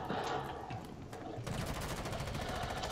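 Gunfire in the video game Rainbow Six Siege: rapid automatic bursts that rattle on and grow denser, loud and continuous with brief voice sounds mixed in.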